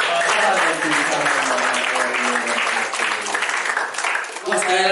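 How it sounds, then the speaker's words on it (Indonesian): Students in a Jakarta high school hall applaud a visiting police speaker, a dense, loud, sustained wash of clapping that fills the whole stretch, with voices faintly mixed in. "Sekali lagi beri tepuk tangan yang meriah loh."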